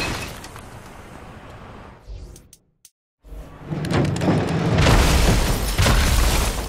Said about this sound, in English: Why would he throw rockets at me?